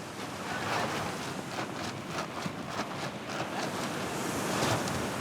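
Strong wind sweeps over the sea in the Bazaruto Archipelago off Mozambique, a continuous broad roar of gusts and surf that holds steady close to the microphone.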